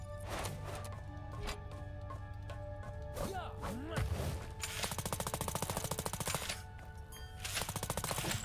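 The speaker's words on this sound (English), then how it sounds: "So now we got a little machine gun going." Rapid machine gun fire from the video game Trifox, a fast stream of sharp repeated shots in bursts over steady game music and effects.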